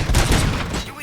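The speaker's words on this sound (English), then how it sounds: "Gunshots? What's going on?" Gunfire in the video game RoboCop Rogue City: a dense burst of loud, close shots rattles through the opening, tapering off after about a second, with a voice mixed in.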